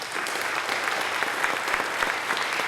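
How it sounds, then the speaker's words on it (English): A crowd at a city hall keynote gives brief, steady applause, with dense clapping from many hands and a few louder claps standing out near the end. "Give yourselves a round of applause."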